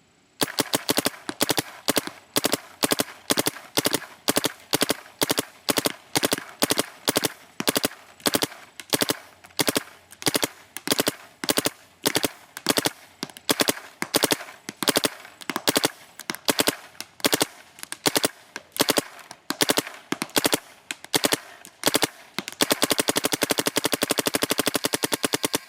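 A BT TM15 paintball marker fires 3-shot bursts, sharp and close, in a long series of rapid, regularly spaced pops, then a sustained hiss near the end.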